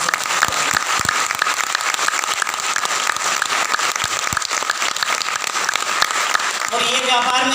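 Loud, dense applause from an audience at a gathering, a continuous roar of many hands clapping at steady strength throughout, with a few sharper claps and faint voices or music breaking through near the end.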